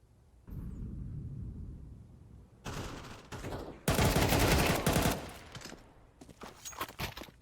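Gunshots in a competitive video game match: a low rumble at the start, then bursts of loud rapid automatic fire and scattered shots, close and dense.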